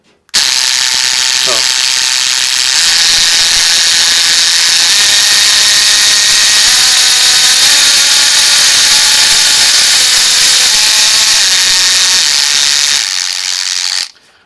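A Parkside cordless engraver runs steadily, giving a loud, continuous high-pitched buzzing whine that starts abruptly, holds for about thirteen seconds and then cuts off.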